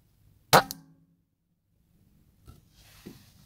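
Single sharp shot from a rifle, a zeroing shot taken at a squirrel feeder, close and abrupt with a brief decay, followed by quiet outdoor ambience and faint rustling.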